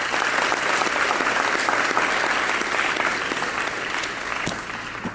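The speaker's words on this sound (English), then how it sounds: "I want you to join me in giving your parents a round of applause for what they've done as well." Sustained applause from parents and students at a high school top student awards event, a full, dense roar of clapping that holds strong throughout, easing off slightly near the end.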